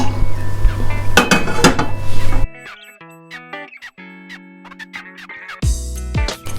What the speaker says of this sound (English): it's time to plate on a bowl of rice